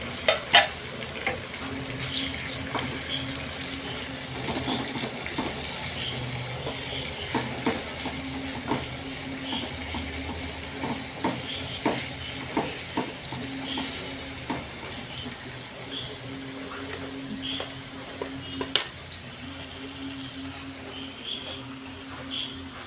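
Fish fries in a pan in a home kitchen, a steady soft sizzle with intermittent clicks and stirring taps throughout, moderately close and without talk.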